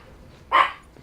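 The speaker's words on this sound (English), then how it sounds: "dogs are going crazy" Dogs bark at someone at the front door, a single sharp bark-burst standing out loud and close over a quiet room.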